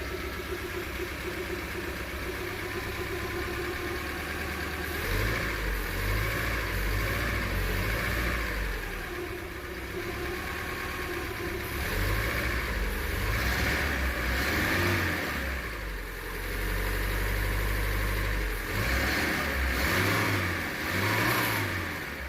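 A 1996 Daihatsu Zebra Astrea Jumbo van's engine, heard with the hood open, runs at a smooth, steady idle and is repeatedly revved up and eased back, each rev swelling and falling away.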